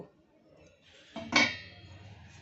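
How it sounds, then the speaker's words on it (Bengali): A pot lid is lifted off a cooking pot of jaggery baked rasgulla, giving a single clear metallic clink near the middle, followed by a soft lingering hum. "এবার ঢাকনাটা খুলব।"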